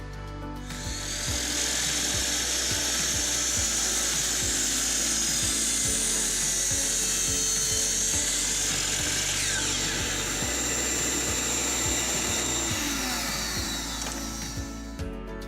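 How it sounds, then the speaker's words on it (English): A power drill whirs steadily and loudly for several seconds, boring 1/8-inch pilot holes into wood with a high, continuous whine that winds down at the end. "drill 1/8 inch pilot holes slightly to the inside of the line"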